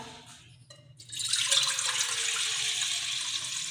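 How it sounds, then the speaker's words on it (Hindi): Water pours into a kadhai for cooking, starting after a second of quieter handling noise and then running as a steady, close splashing stream until the end. "और अब एक अलग कढ़ाई ले लेंगे, इसमें पानी डालना है"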